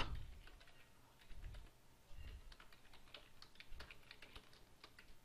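Keys clack on a computer keyboard in quiet, uneven bursts of typing, close and faint with a few louder thuds.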